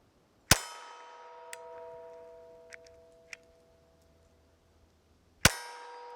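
Two sharp shots from a Meligun MG-22 .22LR revolver knife strike a metal target several seconds apart, each giving a crisp metallic clang with a long ringing decay, with small faint ticks in between.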